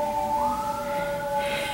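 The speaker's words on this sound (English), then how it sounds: "And here come the sirens." Emergency vehicle sirens pass outside, a faint, steady wailing tone heard from a distance behind indoor background noise.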